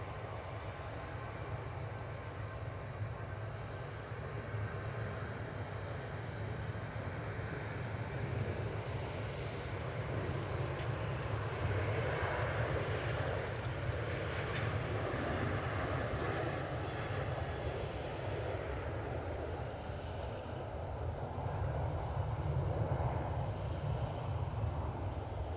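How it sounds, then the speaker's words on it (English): A Turkish Airlines Airbus A321neo lands at Manchester Airport, its engines a steady, heavy roar with a broad rumble that swells slightly toward the end, heard from a distance without a break. "Next arrival, we have the Turkish Airlines A321neo."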